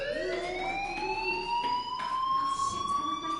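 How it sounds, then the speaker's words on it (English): Fire alarm in the video game Life is Strange rings continuously, a steady electronic tone rising slowly in pitch with bright harmonics, moderately loud over a faint noisy background and no talking. "do you hear that fire alarm? That means you should be outside."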